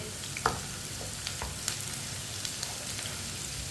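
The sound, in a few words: chopped onion frying while stirred with a spoon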